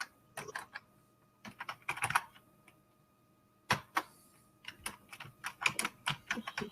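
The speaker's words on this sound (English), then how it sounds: "Obviously, you can hear me typing" Quick bursts of clicky keystrokes on a computer keyboard, close and crisp, coming in uneven flurries separated by short pauses.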